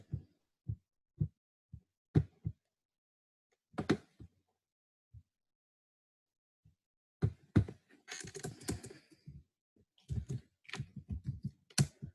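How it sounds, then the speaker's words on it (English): Scattered keystrokes on a computer keyboard, isolated taps at first, then quicker bursts of typing, heard close and quiet in an otherwise silent room. "I'm typing now in the other word file."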